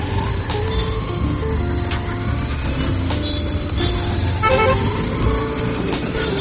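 Busy road traffic on a street in Mangalore: a continuous rumble of passing cars and other vehicles, with short horn toots sounding repeatedly through it.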